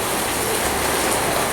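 Steady rain falling outdoors, a dense even hiss of drops spattering on surfaces, close and continuous with no voices over it.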